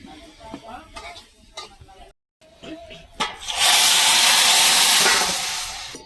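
Hot tempering pours into a pot of Gujarati dal dhokli, bursting into a loud sustained sizzle that fades slowly, after someone speaks over light kitchen clatter.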